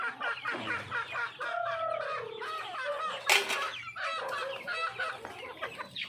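Chickens at a Cebu backyard flock cluck busily and close by, with a rooster crowing and a brief burst of wing flapping midway.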